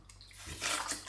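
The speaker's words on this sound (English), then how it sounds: "let's get some water on my face" Water splashes onto a face during a wet shave with a Leaf Thorn razor, a brief close wet slosh lasting about a second.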